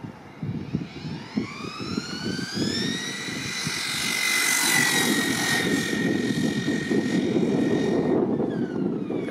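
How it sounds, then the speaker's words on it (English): Thunder Tiger Bushmaster RC car on a 4S battery running at full throttle on speed runs, its electric motor whine rising in pitch and growing louder as it passes close by, steady and alone with no talk. "Does have a nice whine to it. It's definitely hitting full throttle."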